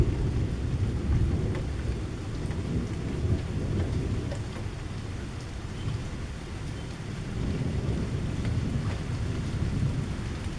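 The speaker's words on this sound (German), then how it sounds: "Es regnet ein bisschen, aber macht nichts" A strong thunderstorm in Kassel, with steady rain pouring and low thunder rumbling almost continuously throughout, broad and loud with no voices.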